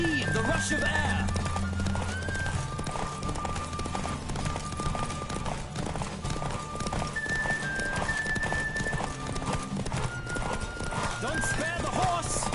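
A horse racing at full gallop in The Witcher 3 next-gen, steady rapid hoof thuds with neighs and snorts layered over a musical score, with voices speaking over the action.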